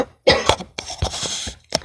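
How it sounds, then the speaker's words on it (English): A person coughs several times in quick, harsh bursts, close and fairly loud, with short pauses between; the person may have a sinus infection. "Sorry I keep coughing."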